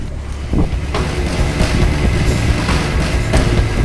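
Wind buffets a motorboat out on a lagoon, a steady loud roar of gusts and rumbling low noise filling the whole stretch without any speech.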